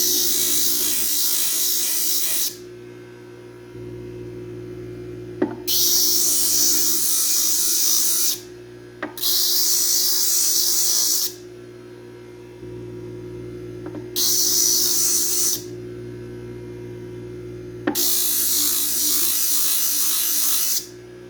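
A graver ground on a TW Design sharpening hone lap, a steady high grinding hiss in several bursts of two to three seconds each, separated by pauses that leave only a low motor hum.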